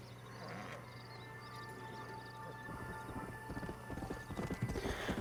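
Horse hooves clip-clop steadily in Red Dead Redemption, growing louder and more rapid, with a stallion whinnying early on over a low ambient hum.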